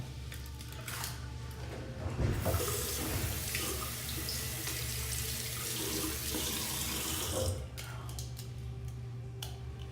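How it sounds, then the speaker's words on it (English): Water runs steadily from a bathroom tap for a warm and cold rinse during a wet shave, a continuous splashing stream at moderate distance that cuts off near the end, with no talking. "Do my warm water, cold water rinse."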